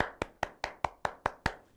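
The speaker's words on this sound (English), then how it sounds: "I clapped for you" Hands clap eight times in a steady, even rhythm, close and crisp, with no voices over them, as a small cheer for a child after a phonics word in an early English alphabet lesson.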